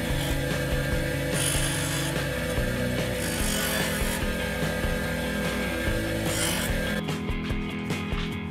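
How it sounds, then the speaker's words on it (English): Grinding and sanding on the edge of a bone guitar nut, a continuous harsh abrasive whir with shifting rasping strokes, steady and close, and the motor cuts away near the end. "Grind the edge and sand it to make it smooth."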